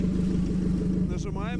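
A motorcycle fitted with a Toyota Camry engine runs at a steady idle, a low, even rumble throughout, with a brief voice near the end.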